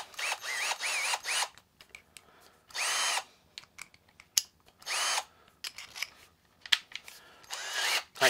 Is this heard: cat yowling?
no